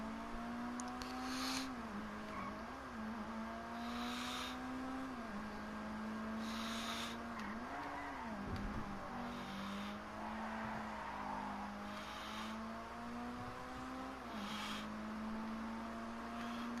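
Engine of a Pfister 911 sports car in GTA 5, a steady droning hum that rises and dips with throttle, plus periodic whooshes, continuous and moderately loud without talk.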